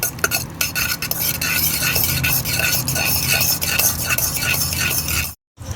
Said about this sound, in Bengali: সবার প্রথমে দইটা ফেটিয়ে নেব।